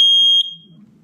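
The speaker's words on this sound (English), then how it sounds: "Testing smoke." Nest smoke detector sounding a single loud, piercing shrill alarm beep during a test, cutting off abruptly and leaving a faint low room murmur.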